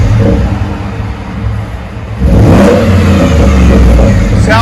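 Loud and close, the 5.0L Coyote V8 of a 2014 Ford F-150 rumbles through its dual Flowmaster 40 Series exhaust, then surges into a sustained aggressive rev just past the two-second mark and holds it.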